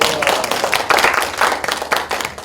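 A small lecture audience claps together, a brisk patter of hand claps rising and dipping for a couple of seconds, close and fairly loud.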